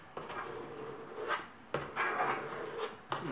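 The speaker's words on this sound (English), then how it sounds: "So you just keep scraping until basically you have a pretty flat surface." A spatula or bench scraper smoothing frosting on a layered rainbow cake, giving soft repeated rubbing scrapes in a few strokes, close and fairly quiet.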